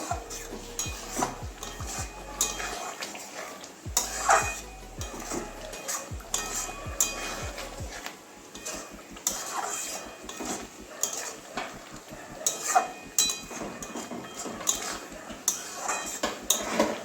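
A spoon scrapes and clatters steadily against a pan as ghee and garam masala are stirred into a potol paneer curry, busy close-up metallic stirring with a faint sizzle underneath and no talking.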